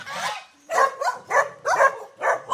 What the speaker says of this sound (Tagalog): Ayan, may mga aso rito.